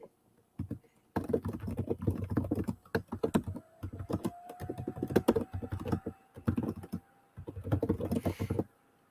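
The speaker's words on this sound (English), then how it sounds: "while you're typing" Fast bursts of computer keyboard typing come through an open mic during a live fight commentary stream, clattering in irregular clusters with short pauses between them and no talk.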